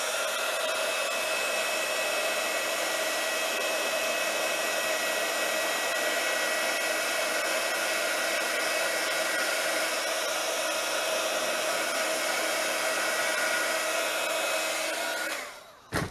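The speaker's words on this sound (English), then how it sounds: "Then I've got my little heat tool." A small handheld heat tool blows hot air onto crepe paper sprayed with water and purple dye, a loud, steady, close roar that holds unchanged for about fifteen seconds before cutting off.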